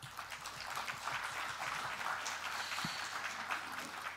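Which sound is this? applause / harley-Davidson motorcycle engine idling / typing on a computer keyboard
applause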